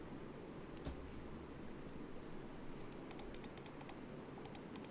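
A computer keyboard is typed on in a faint run of quick key clicks over a steady background hiss, with most of the taps clustered in the second half.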